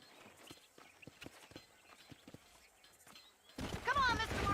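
Horse hooves clip-clop in Red Dead Redemption, a steady series of light, evenly spaced hoof strikes at moderate distance, followed by a louder burst of game sound near the end, with voices talking over it.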